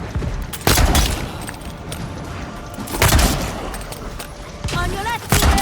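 Pistol fire in the fantasy video game Avowed: a few loud, sharp shots spaced seconds apart over busy combat noise, with a voice speaking between them.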